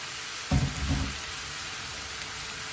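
Sliced onions hit a hot pan for a spinach and egg bhaji, giving a short, soft burst of sizzling that quickly settles into a faint, steady frying hiss with no talk.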